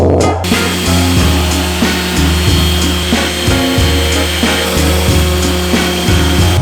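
A plywood edge is sanded by hand with 80-grit sandpaper in rapid, continuous back-and-forth rasping strokes, loud and close, with no talking.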